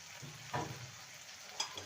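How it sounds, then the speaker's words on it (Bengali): Fried bitter gourd and tomato are stirred in a pan with a quiet, low sizzle and a couple of soft scraping strokes of the spoon. "এবার সমস্ত কিছু ভালো করে নেড়ে নেব"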